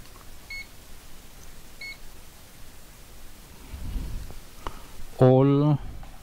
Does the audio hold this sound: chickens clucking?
no